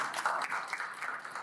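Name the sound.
audience applause for Dr. Sharona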